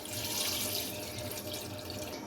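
Water from four glasses poured into a cooking pot for beef pulao, a steady rushing splash of liquid lasting a couple of seconds, close and fairly loud with no talking.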